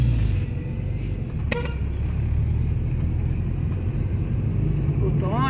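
A truck passes on a rural road near a country fair, a steady roar of traffic noise with a brief horn-like toot, while people talk nearby.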